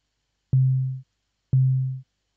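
Two short synthesized sine beeps at MIDI note 48 from Sonic Pi, each about half a second with a clicky attack and quick fade, one second apart against silence.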